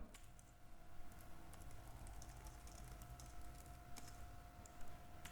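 Keys on a computer keyboard are pressed while working in a spreadsheet, giving faint, sparse clicks over a quiet background hum.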